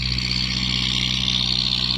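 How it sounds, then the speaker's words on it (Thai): A small walk-behind tractor used for plowing rice fields idles nearby, a steady, loud engine drone with an even low thrum and no change in pace. "รถไถเล็กครับนี่ครับ รถไถเล็กเขาเรียกรถไถเล็กครับ"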